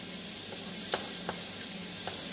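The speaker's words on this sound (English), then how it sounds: "You can hear the sizzle of my" Food sizzling while it fries in a pan on a home kitchen stove, a soft continuous hiss with a few sharp crackles and pops, heard alone.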